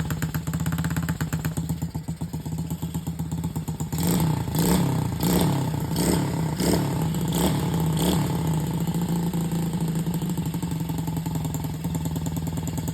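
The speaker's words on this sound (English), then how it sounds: "Idling pretty good." A small SSR110 pit bike with a Chinese carburetor idles steadily up close, its low engine thrum broken by about six quick throttle blips around the middle before it settles back toward idle.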